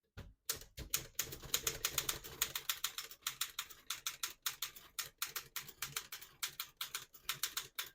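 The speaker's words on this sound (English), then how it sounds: "I'll type a sentence on the next line." A 1930 Royal 10 manual desktop typewriter is typed on in quick bursts of crisp, sharp key strikes, close and clear, with short pauses between runs of keystrokes.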